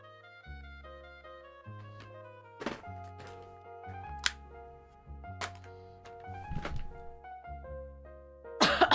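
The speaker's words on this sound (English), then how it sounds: "I wonder if my cough is from my moldy cup." A person coughs a few times in short, sharp bursts, spread across the clip over steady background music.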